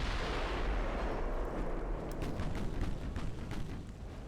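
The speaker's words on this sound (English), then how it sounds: "It's just within range of the 6-inch guns there." Naval gunfire from 6-inch guns in the warship game Ultimate Admiral: Dreadnoughts, a sustained rumbling barrage with several sharp cracking shots layered over booming low thunder, loud and continuous with no talk.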